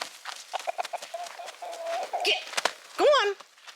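A backyard chicken wandering through a garden's cucumber patch gives a run of short, repeated clucks and a few higher calls, fairly close and mixed with brief human speech.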